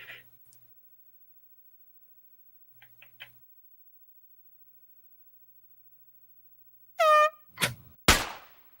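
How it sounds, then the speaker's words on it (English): After mostly silence with a few faint clicks, a short loud air horn blast sounds, followed by two sharp bangs. "I keep hearing the air horn through your end"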